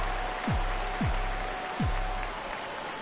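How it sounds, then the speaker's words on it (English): Steady rain hisses through a Twins at White Sox baseball video game, with three brief low swooping tones rising out of the wash. "Rain continues to fall here in the 6th."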